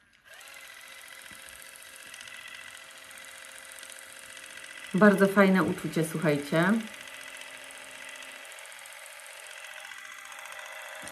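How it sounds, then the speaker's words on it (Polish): A Nu Skin LumiSpa Ideal Eyes massager head spins with a steady, low, buzzing whir, and a voice speaks briefly over it partway through. "Jak widzicie, ta nasadka się kręci i masuje nam tutaj okolice oka"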